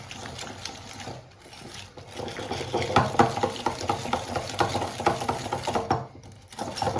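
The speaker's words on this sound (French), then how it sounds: "Et je continue à fouetter." Almond cream batter for an apple tart, with butter and egg just added, whisked by hand in a bowl, giving a steady rapid scraping, clicking rhythm that swells and continues throughout with no speech over it.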